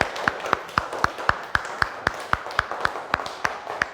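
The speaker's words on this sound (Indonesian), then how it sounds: "beri tepuk tangan untuk kelompok 3" Classroom applause for a student group, heard as a steady, evenly spaced series of crisp claps, about four per second, fairly close and clear with little else behind them.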